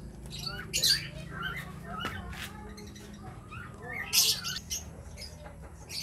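Pet birds squawk in two sharp, shrill bursts a few seconds apart, with rustling and faint background noise between them, in a storeroom.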